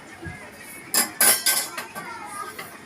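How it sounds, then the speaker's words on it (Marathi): A spoon lifts the lid off a pot of cooked dal, giving a few sharp metallic clinks and scrapes close by that cluster in quick succession, with a faint voice in the background. "ते झाकण चमच्या सहाय्याने मी वरती करते"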